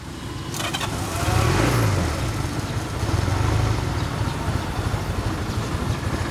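An engine turning over and settling into a smooth, even idle, a steady close rumble without speech.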